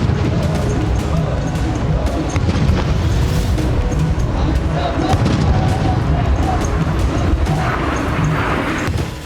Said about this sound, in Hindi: पुतिन के सम्मान में तोपों की सलामी दी गई।